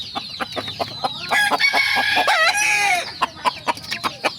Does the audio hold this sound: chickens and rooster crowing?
yes